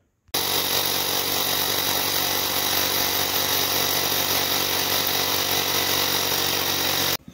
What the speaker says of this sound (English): I'll start drilling holes in the floor so we can put our anchors in so we can bolt it